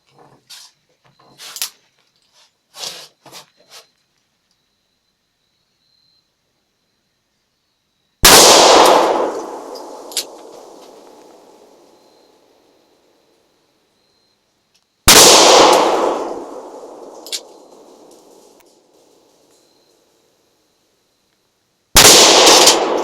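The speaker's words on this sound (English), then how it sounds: "Let me show you how a man shoots a 500 Magnum." .500 Magnum revolver firing three very loud, sharp gunshots spaced several seconds apart, each followed by a long ringing outdoor decay, with a few faint clicks and handling noises before the first shot.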